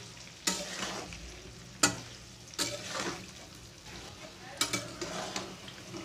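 Mango pickle frying in a pan, a low quiet sizzle broken by a few sharp stirring clinks and scrapes of a utensil against the pan, near and with no talk.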